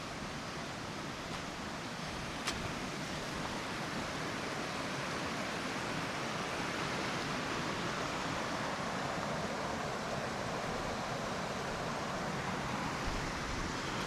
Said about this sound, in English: I think that's what I was hearing, was that little cascade